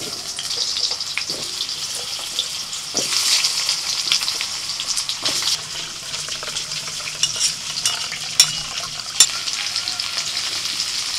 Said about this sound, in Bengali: কড়াই আবার একটু তেল দিয়ে দিচ্ছি আলু